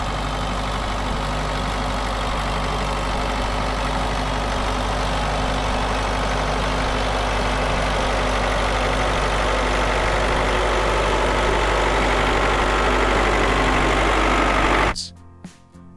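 Heavy tractor engines idle and rumble steadily at close range, a loud continuous low drone with no talk, cutting off abruptly near the end.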